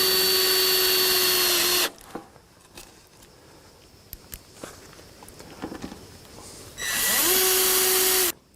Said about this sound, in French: on visse sans trop serrer pour éviter d'écraser